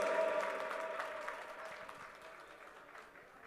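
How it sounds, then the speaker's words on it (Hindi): Audience applause greets Bollywood actor Aftab Shivdasani as he comes onto a stage, a dense patter of clapping that starts strong and slowly thins and fades over a few seconds. "जोरदार तालियों के साथ मेक सम नॉइज।"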